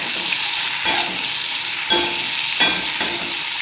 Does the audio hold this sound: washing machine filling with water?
no